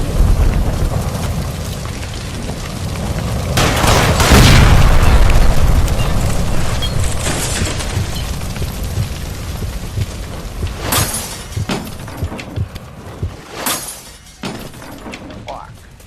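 A gas line blows up in L.A. Noire with a heavy, rumbling boom that swells and lingers for a few seconds, then gives way to scattered crashes and sharp cracks, with shouting voices over the din.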